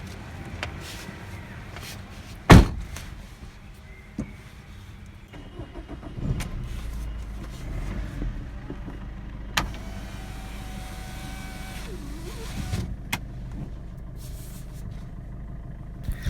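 A new four-wheeler car is driven on the way to a petrol pump: a low, steady engine hum inside the cabin, with a sharp click early on and scattered small knocks and rattles.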